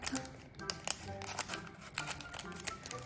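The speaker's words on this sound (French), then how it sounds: "j'utilise des ciseaux parce que je garde les effigies des boosters" Scissors cut open a collectible card booster pack, producing quiet rapid snipping and crinkling of foil wrapper in short irregular bursts, with a voice talking softly through it.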